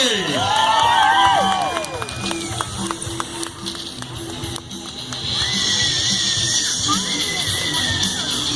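Crowd cheering at a county fair BMX show, loud broad outdoor cheering and shouting with whistles, dipping midway before swelling again, with an announcer's voice mixed in.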